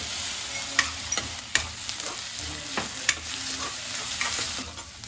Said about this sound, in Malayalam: നമുക്ക് ഈ ചതച്ച് വെച്ച ഇഞ്ചിയും പച്ചമുളകും ഇതിലോട്ട് ഇട്ടു